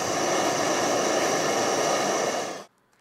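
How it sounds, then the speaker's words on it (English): Electric arcing inside a vacuum tube tester crackles as a loud, steady rushing buzz for about two and a half seconds before cutting off abruptly into silence. "That was the sound of a spark."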